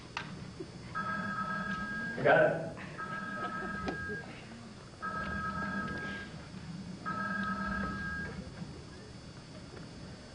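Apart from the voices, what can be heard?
bat phone telephone ringing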